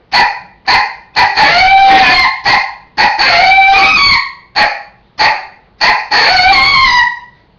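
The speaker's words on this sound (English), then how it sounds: "It's an aggressive bark with a short yodeling type howl." A series of sharp, aggressive coyote challenge barks breaking into short, yodeling howls, loud and close, repeated in quick bursts with brief gaps between.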